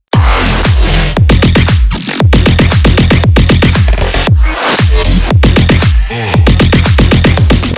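A loud electronic dance drop: pounding kick drums in a steady rhythm with a heavy, sustained bass line and bright synth layers, no voices.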